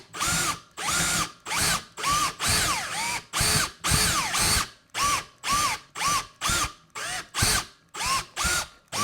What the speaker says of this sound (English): so when the drill goes through it, it doesn't hit the mat and wreck that